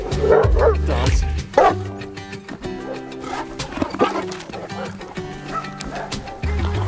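Bernese mountain dogs play outdoors in fresh snow, giving loud, repeated barks and yips close by over a busy, steady background.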